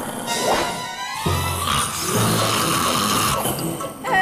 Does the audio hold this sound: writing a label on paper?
no